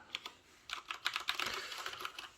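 Typing on a Leopold FC900R mechanical keyboard with Cherry MX Brown switches, heard close up as a quick, uneven run of soft tactile keystrokes that thickens into a busier patter partway through, with no voices.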